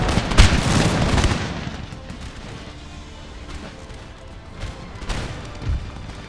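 Elite line infantry in Empire Total War let off a musket volley, a loud booming crackle at the start that fades into a rumbling battlefield din, with scattered shots and thuds following.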